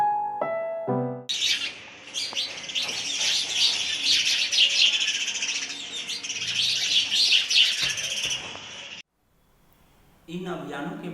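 House sparrows chirping busily around nest boxes, a dense, bright chatter of many overlapping calls that fills most of the stretch, with a brief musical intro before and a short pause near the end.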